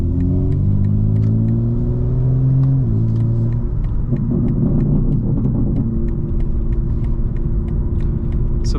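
A 2025 BMW M4 Competition xDrive driving in all-wheel-drive sport mode, its engine droning and climbing in pitch before a gear change, with a steady run of crackling exhaust pops and burbles over the close, loud rumble.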